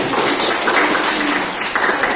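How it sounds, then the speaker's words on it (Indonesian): Steady applause from a crowd, a dense continuous patter of clapping that holds at an even level throughout. "tepuk tangan semuanya"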